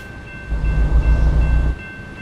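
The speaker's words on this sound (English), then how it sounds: "Train." A train rolls past in the American Truck Simulator video game, a short, loud rumbling swell of rail noise that rises and fades within about two seconds.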